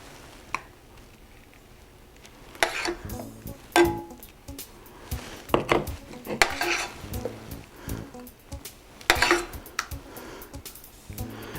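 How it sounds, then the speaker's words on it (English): A spoon scrapes and scoops pudding into parfait glasses, with soft wet squishes, clinks against the glass and scattered stirring noises in a quiet kitchen, no talking. "So we're going to spoon a little pudding in each of our Parfait glasses"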